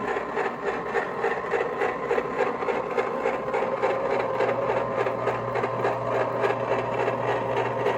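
A homemade ice cream maker running nearby, giving a constant mechanical whirring hum with a rapid rattling texture that holds steady throughout.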